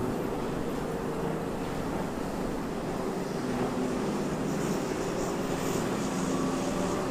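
A Ryanair airliner at Venice Marco Polo Airport, heard as a continuous broad jet roar over wind noise, steady and moderately distant, with no talking.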